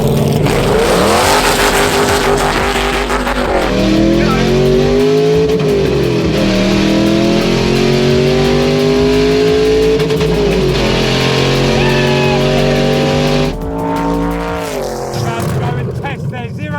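A loud, throaty LS3 V8 in an AC Cobra replica styled as an ex-Le Mans car roars and revs continuously, rising and falling in pitch as it accelerates, close by, with a brief dip near the end.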